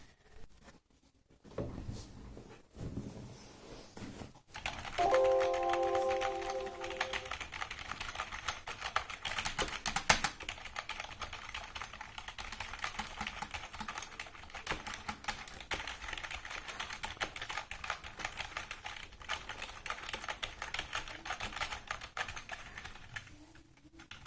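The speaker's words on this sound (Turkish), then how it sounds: "sesine bakalım klavyenin sesi çekeyim" Rapid typing on a budget gaming keyboard clatters continuously for a long stretch, close and crisp, after a few scattered clicks and a brief tone at the start.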